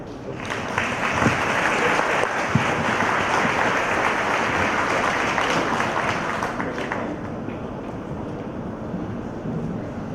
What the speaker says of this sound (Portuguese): Recebamos com aplausos o ilustre palestrante, auditor fiscal, Paulo Gil